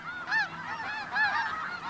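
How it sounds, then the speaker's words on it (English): Snow geese honk from a colony on the Arctic tundra, several calls rising in quick bursts at moderate distance over a soft background murmur. "Finally, the ground around the snow goose colony thaws."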